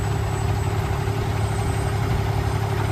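A 2018 Peterbilt 579 tandem-axle truck with a 425-horsepower Cummins engine and automatic transmission idles nearby, a loud, steady low rumble with a constant hum and no talking.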